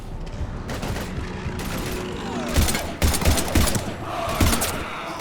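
Gunfire in the video game Mass Effect 3, rapid bursts of automatic weapon fire with sharp thuds and mechanical clatter, dense and loud over a busy combat background.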